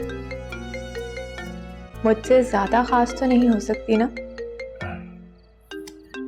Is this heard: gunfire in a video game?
no